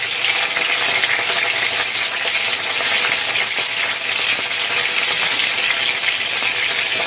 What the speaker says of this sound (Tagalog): parang hindi na naman yung sound ng pagpa-fry ko